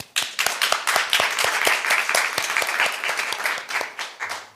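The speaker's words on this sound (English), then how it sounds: "please give a big round of applause to our moderator," A round of applause from the seated audience at a human rights seminar panel discussion: many distinct hand claps rise in quick succession, stay steady, then thin out toward the end.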